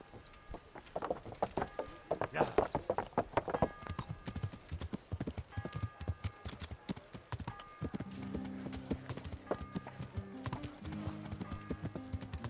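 Horse hooves clip-clop in Kingdom Come: Deliverance, a steady close trot of hollow knocks that runs throughout, with a faint whinny, a low musical tone joining later, and occasional quiet talk.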